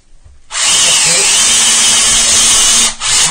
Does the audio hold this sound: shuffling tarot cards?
no